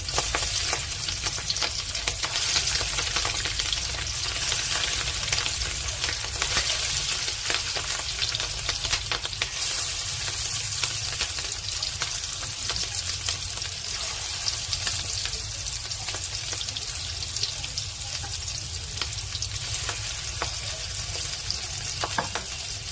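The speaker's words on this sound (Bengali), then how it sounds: "মাছের ডিমগুলোকে হালকা করে ভেজে নেব" Salted, turmeric-coated fish roe frying gently in oil in a pan gives off a steady, hissing sizzle with faint crackles and occasional soft stirring scrapes, even and unbroken throughout, with no speech.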